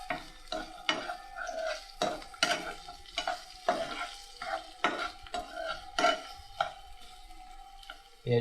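Onion and garlic being stirred in a pan, heard as a run of repeated metallic scrapes and clanks of a spatula against the pan over a light sizzle, close and rhythmic, with no voices.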